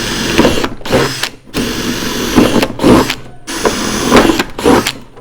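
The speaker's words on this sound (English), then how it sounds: "With these 2, you need to do the drilling as we've done for the previous one." A power drill bores holes into plastic water bottles, loud whirring bursts starting and stopping in several separate runs with short pauses between them, no voices.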